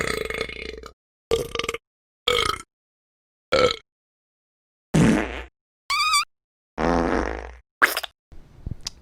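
A series of fart sound effects, short separate blasts and squelchy rasps, some brief and some drawn out, spaced with silent gaps, close and loud.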